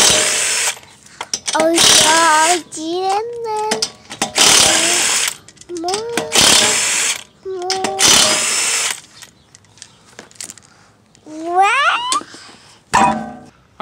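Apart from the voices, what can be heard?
power tool removing 19 mm wheel nuts on Honda Accord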